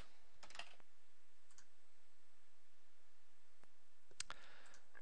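Mouse clicks and keyboard typing during account setup at a computer, a few short bursts of clicks and keystrokes separated by quiet gaps, close and faint.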